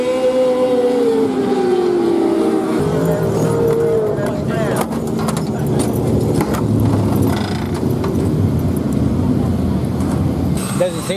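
Dirt track race cars, including an 11-year-old's car, roar across the finish line in a loud, continuous engine wash that sweeps downward in pitch early on, with people talking over the noise.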